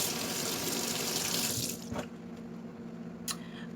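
A cabinet hinge is rinsed under a running kitchen tap, a steady close rush of water that thins out partway through, with a few brief splashes and knocks as the hinge moves in the stream.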